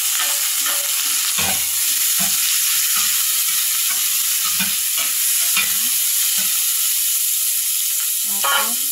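Garlic, onion, long chili and ginger sautéing together in hot oil for a pork adobo with tomato, with a steady close sizzle and repeated stirring scrapes throughout.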